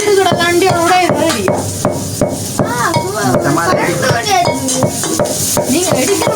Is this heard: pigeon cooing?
no